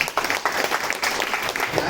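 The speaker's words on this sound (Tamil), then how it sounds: "கைத்தட்டலாம் இருக்கு, நல்ல பாயிண்ட்." Applause from an audience at a JCI Perundurai meeting, scattered sharp claps in an uneven rhythm with talk mixed in.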